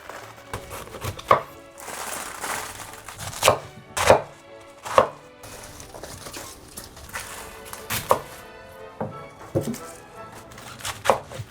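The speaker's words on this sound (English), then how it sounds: "And now we're just gonna cut the second piece of cabbage now and add it on top of this" Napa cabbage is cut for kimchi with a knife on a board, sharp, irregular crunchy chops spaced across the span over a soft rustle of leaves.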